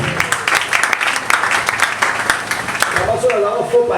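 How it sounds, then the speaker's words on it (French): Congregation in a Sunday church service clapping and acclaiming Jesus, a dense, steady wash of applause and cheering voices throughout, with singing or shouted acclamation rising toward the end. "On acclame Jésus le roi"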